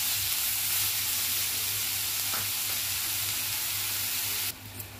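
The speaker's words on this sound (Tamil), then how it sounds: "வெங்காயம் சேர்த்து நல்லா ஃப்ரை பண்ணிக்கலாம்" Chopped onions fry in a pan with a steady, loud sizzle and hiss that runs throughout, briefly dipping in the final half second.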